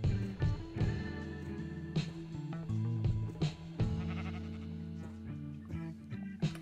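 Sheep bleating in the video game Attack of the B Team, several loud wavering baas in quick succession, close and overlapping with one another over a few seconds.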